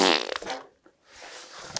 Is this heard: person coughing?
no